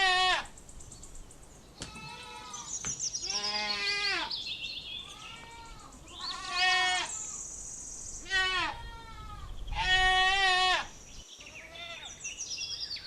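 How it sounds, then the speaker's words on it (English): A goat bleats repeatedly in loud, wavering cries at irregular intervals, close by, with faint high chirps in the background. "goat"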